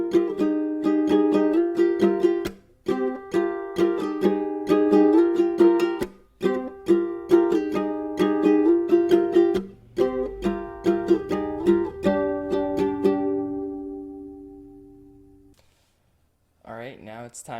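Steady ukulele strumming in a rhythmic pattern with chord changes, ringing out and fading near the end, followed by a brief voice.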